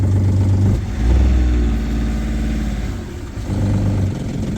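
A boat's inboard engine catches after cranking and settles into a loud, steady low rumble, heard close with a slight surge in revs partway through and no talking.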